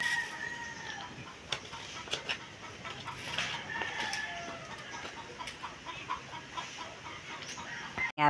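Chickens cluck intermittently near a relocated rabbit hutch, moderately close, with short repeated calls and scratchy bursts over a steady outdoor hum and no voices.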